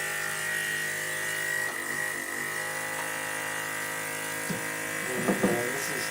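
A small electric vacuum pump motor for a woodworking vacuum clamp hums steadily at a constant pitch, moderately quiet and close, with a few faint knocks near the end.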